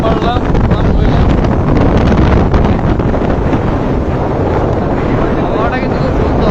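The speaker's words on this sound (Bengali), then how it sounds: "হাওয়াটা কিন্তু খুব সুন্দর।" Loud, steady wind buffeting the microphone throughout a rainy motorbike ride, a dense continuous roar with no breaks, under occasional faint talk.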